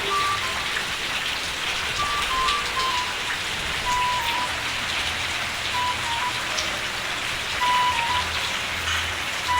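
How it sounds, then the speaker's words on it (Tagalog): Heavy rain pours down steadily during a storm, a dense, even hiss of drops hitting surfaces close by, continuous throughout with no talking. "Ang lakas ng ulan talaga."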